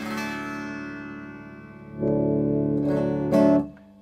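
A sustained chord on a Gibson Les Paul Traditional electric guitar rings out with a dark, thick, muddy, throaty tone, then swells louder and fuller before fading.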